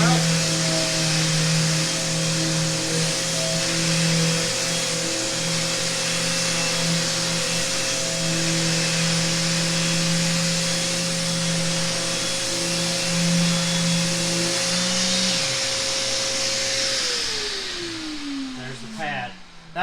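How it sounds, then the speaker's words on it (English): A Festool CT Midi HEPA dust extractor runs with a sander attached, a loud steady whine with sustained tonal hum that holds level, then winds down in pitch near the end. "When we turn the tool on, the vacuum will instantly come on as well."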